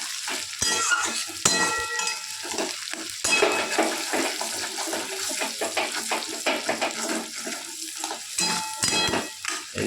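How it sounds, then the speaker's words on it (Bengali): Onion and tomato fry in a pan for a prawn curry, a loud, wet sizzle broken by repeated stirring scrapes and clatters throughout. "আপনারা দেখতে পাচ্ছেন কি সুন্দর করে টমেটো এবং পেঁয়াজটা ভাজছি আমি"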